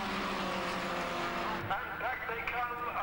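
Formula Vee race cars roar past on a track in a 1991 Volkspares race, a loud continuous engine drone with a shifting pitch as the pack passes, under a commentator's voice.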